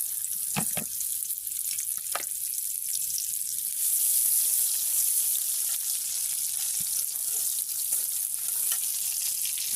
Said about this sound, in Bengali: তেল দিয়ে দিলাম, এবার দিয়ে দেবো পেঁয়াজ রসুন।